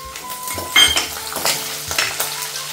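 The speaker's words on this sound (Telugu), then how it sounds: "పోపు గింజలు వేగుతూ ఉండగానే సన్నగా తరిగి పెట్టుకున్న పచ్చిమిరపకాయలు" Mustard and other tempering seeds with finely chopped green chillies sizzle and crackle in hot oil in a pan while being stirred, with several louder bursts of spitting as the chillies go in, close and steady.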